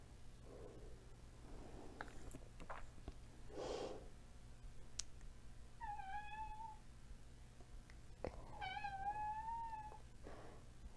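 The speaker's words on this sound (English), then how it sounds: "Oh, here comes the cat." A house cat meows twice with drawn-out, wavering cries, faint and close in a quiet room, between soft snorts and breathing sounds.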